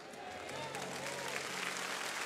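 A congregation applauds during an evangelical church service, a dense, steady wash of clapping that fills the hall throughout, with a voice and faint tones carrying over it.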